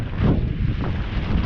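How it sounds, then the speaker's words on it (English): Strong wind gusts of about 30 mph buffet a microphone on a wet beach, a loud rough continuous rumble that swells and dips briefly. "the winds are getting stronger and stronger and stronger"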